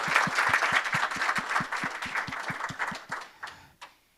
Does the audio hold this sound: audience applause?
yes